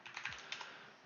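Brief burst of keystrokes on a computer keyboard while a sudo command is entered in a Linux terminal, a few quick close clicks and taps with no voice.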